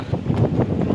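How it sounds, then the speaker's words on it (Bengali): Strong wind buffets a footbridge near a ferry ghat in the Sundarbans, a loud, steady low rumble of gusts hitting the microphone throughout the brief moment. "এত জোরে হাওয়া দিচ্ছে যেন সামনে এগোতেই পারছি না"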